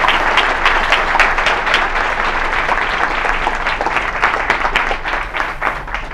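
An audience at an electrical engineering distinguished lecture applauds to welcome lecturer Andrew Viterbi: steady, full clapping from a large crowd that carries on for several seconds and eases off slightly toward the end.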